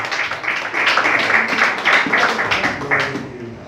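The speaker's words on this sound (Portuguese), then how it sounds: "As palmas, louvam o Senhor Jesus" A church congregation claps hands in praise, a brisk, rhythmic burst of clapping that swells and fades over a few seconds with a voice faintly present.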